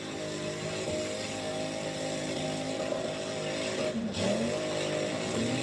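A truck engine fitted with long tube headers roars steadily at high revs, loud and close, with a brief dip and rising swell of revving near the end and no talk.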